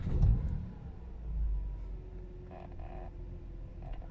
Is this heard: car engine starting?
yes